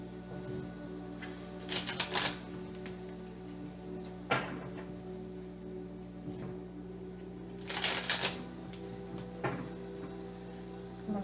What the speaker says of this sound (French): Je vais reprendre ces cartes-là. Je vais bien les mélanger.